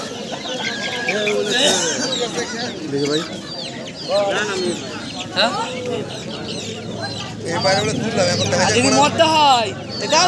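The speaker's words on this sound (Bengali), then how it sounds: "কিছু হাঁসের বাচ্চা আর দেশি মুরগি, মোরগ" Local country chickens and roosters cluck and call repeatedly at a busy rural animal market, close by and loud, amid the hubbub of people talking nearby.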